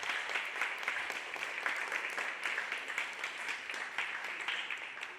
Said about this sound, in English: let's get a round of applause for our panelists here